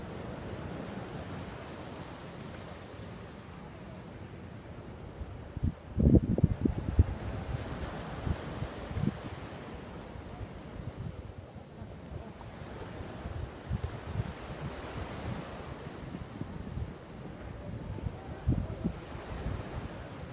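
Ocean surf on a beach washes in and out under gusty wind noise, with one louder wave crashing about a third of the way through, then steady rolling waves with no voices.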